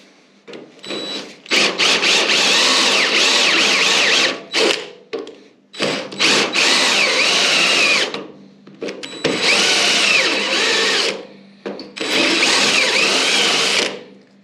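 A power drill runs loud and close in four long bursts with short pauses between, its pitch whining and dipping as it bites into rusty metal on a beach buggy chassis.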